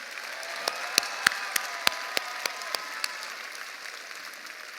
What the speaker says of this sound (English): So let's give them a round of applause for preserving this great organization.